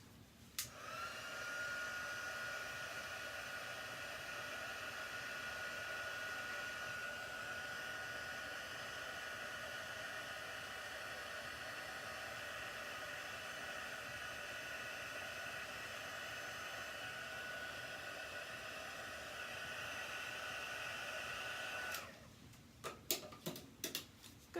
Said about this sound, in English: Let's heat emboss that.